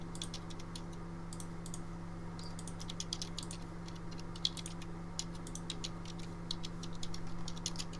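Computer keyboard typing in quick irregular bursts of clicks, fairly faint, over a steady low hum, with no one speaking.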